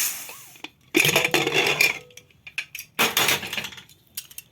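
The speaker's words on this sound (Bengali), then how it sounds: "এবার আমি ঢাকনাটা খুলে দিই।" A pressure cooker lid comes off after cooking dal with pumpkin greens: bright metallic clanks and scraping rattles in two close bursts, separated by brief quiet.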